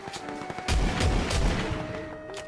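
Shotgun blasts in a video game, three heavy booming shots spaced out over a couple of seconds, loud and punchy with a low rumbling tail under steady game ambience.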